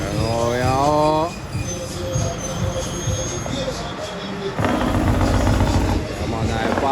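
A passenger train rolls past near a cane-growing area in Linstead, Jamaica, its wheels squealing in a rising, falling metallic whine over steady rail rumble, with loud clattering toward the end and a voice talking through it.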